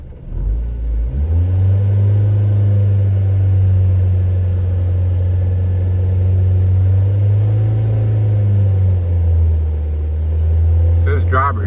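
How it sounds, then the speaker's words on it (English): Car engine revved after a Sea Foam fuel treatment, a loud, close, steady low drone that climbs and holds for about ten seconds before easing off, with brief talk at the end. "Let's rev her up and see what she does."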